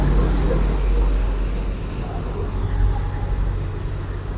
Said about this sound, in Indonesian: nampak keluar dari dalam terminal eksekusi ada bus Garuda Mas dengan julukan Intan